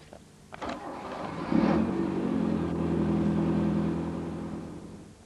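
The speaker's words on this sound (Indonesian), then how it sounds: "Pertama-tama kita start mesin." A car engine starts during an electronic fuel injection demonstration: a few brief clicks of the starter, then the engine catches and settles into a steady, close idle hum.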